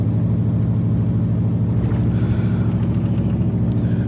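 A Nissan Titan truck engine runs at a steady idle close by, giving a continuous low, even rumble with no voices over it.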